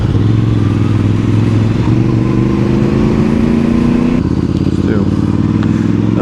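Motorcycles rumble past on the road, a loud continuous engine drone with a steady low hum that shifts slightly in pitch, heard up close from a moving rider's position.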